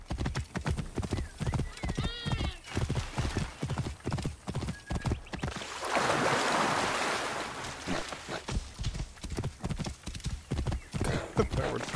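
Horse hooves clip-clop in a steady, brisk rhythm in the video game Assassin's Creed Origins, close and clear, with a horse whinny and a brief rushing burst midway.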